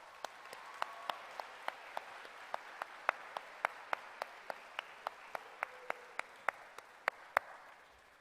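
Scattered applause at an athletics award gala, sparse individual claps spread across a room at a steady, uneven pace, faint and distant with a soft background murmur.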